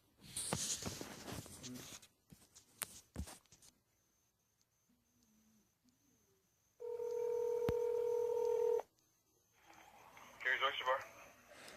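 A telephone keypad beeps through a series of dialing tones, followed by a steady, fairly loud ringback tone lasting about two seconds, with someone talking before and faint rustling and voices around it.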